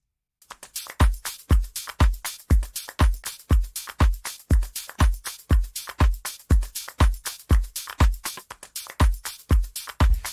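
Music run through tape saturation: a steady pattern of punchy, thick kick-like hits with bright transient tops, repeating in an even groove, loud and close with no voices over it.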